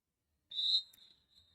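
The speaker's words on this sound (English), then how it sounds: "Whistled to end that team timeout" Referee whistle ending a team timeout at a roller derby bout, one short, sharp blast that trails off into a faint tail, heard alone against near silence.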